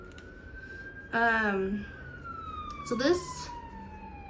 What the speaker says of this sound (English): Oh, here comes a fire truck.